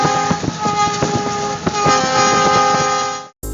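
A loud train speeds through snow in Canada, thundering past close by with a steady roar, rhythmic clatter over the rails and a sustained horn tone, ending abruptly.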